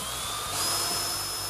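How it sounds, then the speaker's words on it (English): A step drill bit boring a hole, giving a loud continuous high-pitched grinding whine that holds steady and swells slightly partway through, with no talking. "Start drilling, and with each step of the drill, you're getting a larger and larger hole."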